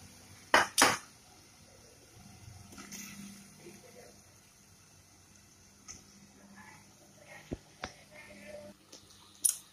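Potatoes go into a cooking pot of water and turmeric for a potato curry, giving a couple of loud splashing clatters at the start, followed by quieter scattered clinks and small water sounds.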